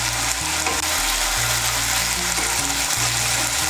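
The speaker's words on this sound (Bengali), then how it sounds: "আদা বাটা, রসুন বাটার, কাঁচা লঙ্কা বাটাটাকে তেলের সঙ্গে মিশিয়ে নিয়ে একটু ভেজে নেব।" A paste of ginger, garlic and green chilli fries in oil, giving a loud, unbroken close sizzle and spatter over a low steady hum, with no voices.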